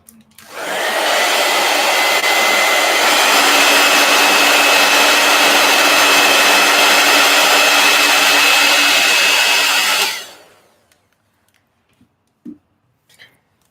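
Heat gun blowing hot air during a coloring session, a loud steady whooshing roar close by that holds for about nine seconds before cutting off, followed by a few faint knocks.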